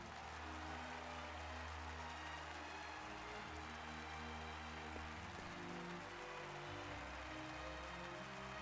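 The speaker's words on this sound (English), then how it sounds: "the pair left the stage, the sound of thundering applause" Dense, sustained applause from the video game Octopath Traveler 2, after a dance performance, fills the scene, a steady wash of clapping at an even level without pause.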